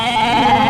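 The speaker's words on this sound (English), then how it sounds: "no one's going to understand a word this goat is saying" A goat bleats once in a loud, close, wavering cry with a quavering tremble that holds steadily for under a second, with no other sound around it.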